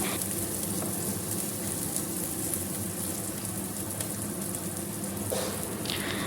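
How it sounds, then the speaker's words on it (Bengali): Onion and green chili frying in a pan, a soft steady sizzle with a faint crackle that carries on evenly throughout. "পেঁয়াজটা আর লঙ্কাটা যতক্ষণ আর একটু ভাজা হচ্ছে"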